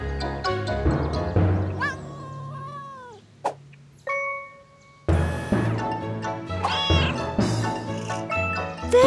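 A cartoon kitten stuck up a tree mews repeatedly in high, plaintive cries, close and clear, with short pauses and a brief bright tone between calls.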